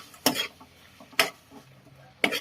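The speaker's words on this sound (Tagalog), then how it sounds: "Kasi kailangan natin haluin ito ng haluin." A spoon stirs guava jam in a cooking pot, giving three separate scraping, clinking strokes spaced about a second apart, close and fairly quiet, with no talk.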